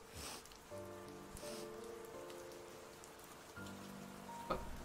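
Steady rain falling in the Camp Buddy visual novel, a soft continuous patter with brief swells, heard alongside a faint tonal music bed.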